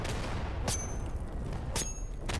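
Gunfire impacts in the Day of Infamy shooter game, two sharp cracks about a second apart over a low rumbling battlefield background.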